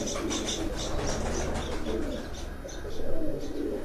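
A pigeon coos on a rooftop, low throaty calls close by, with light chirps from other birds mixed in over a few seconds.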